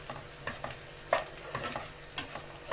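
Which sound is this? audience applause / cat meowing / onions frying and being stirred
onions frying and being stirred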